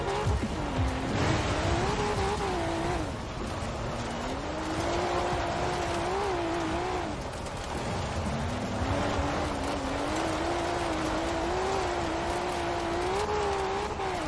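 Nissan GT-R on drag slicks sliding across dirt in the racing game Forza Horizon 4, its engine droning and wavering in pitch as the revs rise and fall over a steady rush of tyre noise.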